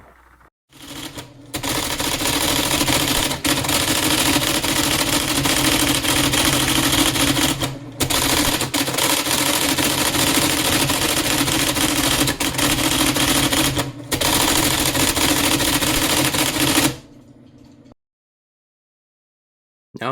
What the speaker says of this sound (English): the typewriter is so noisy I can barely hear anything, even my own voice